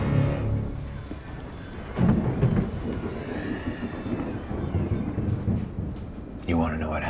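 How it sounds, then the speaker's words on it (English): A thunderstorm rolls on with a broad, steady rumble of thunder and rain, the low roar swelling at moments, while voices talk over it near the start and end. "In a storm. Just like this one."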